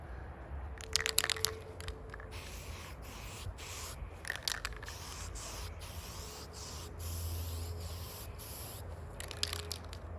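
Primer sprayed from an aerosol can in a couple of coats: short intermittent hissing bursts, close and fairly loud, mixed with rubbing and scraping handling noise over a steady low background rumble, with no talking.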